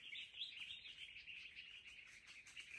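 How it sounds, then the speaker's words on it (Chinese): Wild birds chirping and tweeting in winter mountains, a steady run of small high calls, fairly faint and distant, with no talk. "听到鸟鸣吗？"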